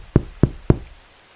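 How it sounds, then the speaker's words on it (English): Three firm knocks on a door, evenly spaced and close, each a sharp hollow thud, then quiet. "but the knocking persisted"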